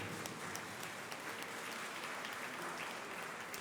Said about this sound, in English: I was waiting for the applaud because you really deserve it